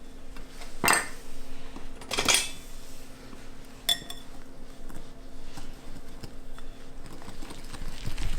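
Seasonings and hot sauce are stirred in a bowl, with a few sharp clinks of a utensil against the dish over a quiet room background.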